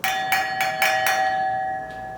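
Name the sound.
crystal wine glass ringing like a bell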